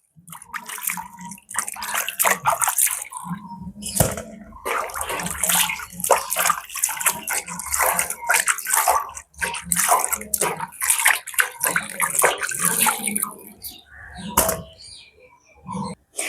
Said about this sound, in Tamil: இந்த இதெல்லாம் வட்டிவா நீட்டாக கழுவி எடுக்க போகிறோம்